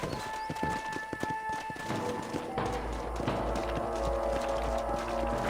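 Hooves clatter in a fast, steady rhythm, several horses galloping together in the video game Red Dead Redemption, with a low rumbling wash of background sound.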